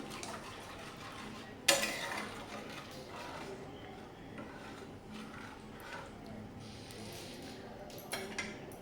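A spoon stirring paneer curry with garam masala in a pan: a quiet, steady scrape and clatter, one sharp metallic knock early on and another clink near the end.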